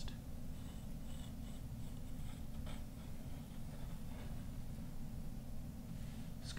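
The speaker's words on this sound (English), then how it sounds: "sketch some parallel lines" A pencil scratches parallel lines on paper along a 12-inch ruler held at an angle, giving soft, steady strokes against a constant background hiss.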